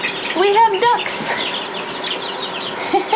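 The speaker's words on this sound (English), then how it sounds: "We have ducks." A group of young ducklings peeping in short, high bursts, close by, while people talk over them near a red heat lamp.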